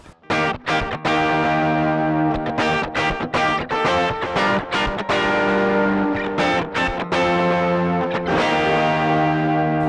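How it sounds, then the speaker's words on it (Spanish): An electric guitar plays a riff through a Strymon Big Sky reverb pedal, loud chords that ring out in sustained, washy swells with short breaks between strums and no speech. "Voy a hacer un riff."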